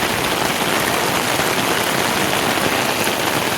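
Heavy rain pours down at Lincoln's Tomb in a dense, unbroken hiss, loud and close, with no talking.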